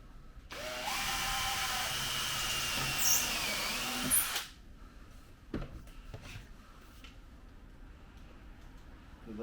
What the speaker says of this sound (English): I am drilling right through this piece to make sure it doesn't move.